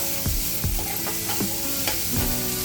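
Onion frying and sizzling in hot oil in a home kitchen, village style, with a steady crackling hiss, while a spoon stirs it, scraping and clinking against the pan several times, with no talking.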